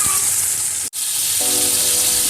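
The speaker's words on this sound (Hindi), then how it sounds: "टमाटर ऐड करेंगे, हरी मिर्च ऐड करेंगे और 2 मिनट के लिए फ्राई करेंगे" Onion, tomato and green chili fry in a pan with a loud, steady sizzle, a brief break in the hiss midway, then the frying continues close up.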